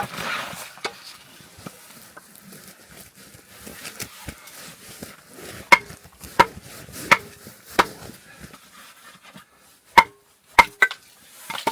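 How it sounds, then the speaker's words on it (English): Wood being chopped with a knife outdoors in bitter -30° cold, a series of sharp, close cracks spaced irregularly, a few much louder strikes standing out over a quiet background. "You can chop the wood with the knife."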